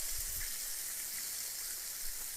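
Chicken fries in a pan with a continuous, even sizzle and hiss and occasional soft pops, close up with no talking.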